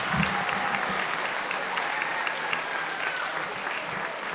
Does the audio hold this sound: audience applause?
yes